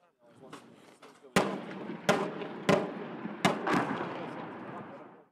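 Artillery and mortar barrages hit a city in a Middle East battle, a series of five or six loud, sharp blasts a second or so apart, each trailing off in a rumbling echo.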